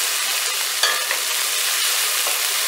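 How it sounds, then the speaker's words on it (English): Curry goat fries in a pot with a dense, even sizzling hiss while being stirred, one or two soft scrapes of the spoon standing out, close and steady with no voice. "And I'm gonna just continue to stir"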